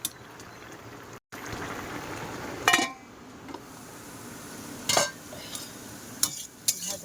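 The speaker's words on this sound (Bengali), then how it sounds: "জিরে বাটা দিয়ে আজকে শুক্তোটা রান্না হচ্ছে।" Shukto curry with cumin paste cooks in a pan, with a faint simmer under occasional sharp clinks and scrapes of a spoon stirring against the metal, heard close and without voices.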